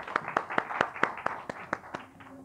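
A class audience claps in applause for a student, a burst of about ten distinct hand-claps that fades out toward the end, with some low murmuring.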